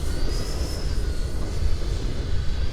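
An FMS Hawk 80mm RC jet with an electric ducted fan flying past, a steady whining whoosh over rumbling wind noise, fairly loud and continuous with no voices.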